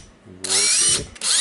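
A Makita DTD146 impact driver whirs loudly in a short burst after a switch replacement, stops for an instant, then kicks in again, close and harsh.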